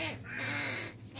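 A pet crow caws in a single loud, close call lasting about a second, with a harsh, raspy tone.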